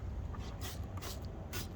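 A cleaner is sprayed across a car engine bay for a touchless wash, with three short hissing bursts over a steady low rumble of background noise.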